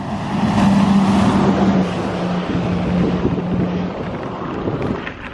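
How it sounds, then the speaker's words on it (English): Big lorries from nearby quarries rumble past on a main road near Hartshill Hayes, a loud sustained roar with a low engine drone, mixed with wind buffeting on a winter day. "big lorries coming past."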